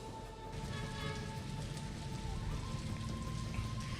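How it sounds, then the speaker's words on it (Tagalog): Rain falls steadily across Dagupan city, a soft, even patter of drops on surfaces with a constant hiss and no voices. "Si Jay, sa mga oras na ito, nakakaranas pa rin tayo ng mga pag-ulan dito sa malaking bahagi ng lungsod ng Dagupan."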